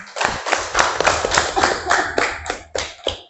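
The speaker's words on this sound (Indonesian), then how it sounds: "Oke, tepuk tangan" A small group claps in a classroom-style session, producing uneven bursts of sharp hand slaps that rise and fall in a loose rhythm, close and fairly loud, with no talk over them.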